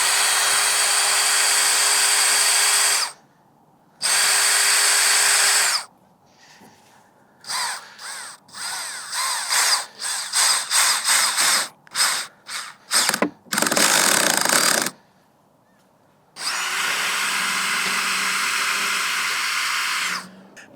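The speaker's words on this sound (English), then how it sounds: "I'm going to be using this countersink bit to make new pilot holes for them" A power drill with a countersink bit boring pilot holes in warped masonite at a DIY skate spot, loud whining bursts of several seconds separated by quiet gaps and a flurry of short, stuttering triggers.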